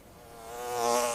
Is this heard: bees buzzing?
yes